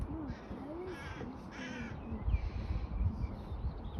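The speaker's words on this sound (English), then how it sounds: "Oh yeah, there's a lot of crows. These are jackdaws," Jackdaws and crows calling at a bird park, with several harsh caws and higher chattering calls over a steady outdoor background and no talking.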